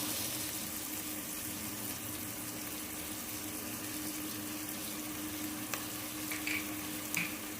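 Tomato pieces and salt sizzle in a pan for egg fried rice made from leftover rice, a steady hiss throughout with a couple of faint clinks near the end.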